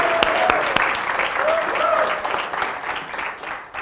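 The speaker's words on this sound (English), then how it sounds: "a round of applause" A church audience applauds a woman standing for her birthday, a steady, sustained round of clapping that fills the room, with scattered whoops and voices mixed in, then slowly thinning toward the end.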